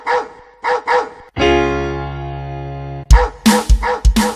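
Short, bright puppy barks come in quick bursts within a Tamil children's song. They are broken by a long sustained musical tone, then return as a rapid run of close yips.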